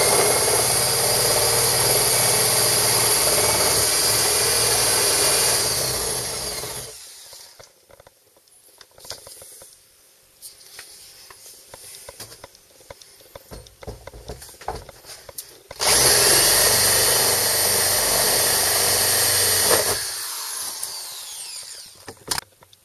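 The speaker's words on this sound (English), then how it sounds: "3/4 inch spade bit, and try not to drill up and mangle the track" A power drill with a 3/4 inch spade bit whines loudly, stops for several seconds of quiet scraping and handling noises, then drills again in a second sustained burst.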